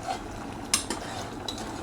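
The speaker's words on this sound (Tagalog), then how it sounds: "haluin natin itong ating gulay." A vegetable dish with potatoes being stirred in a pot on the stove, giving soft scraping and clinking of a utensil against the pot, with a few sharper knocks over a low background hiss.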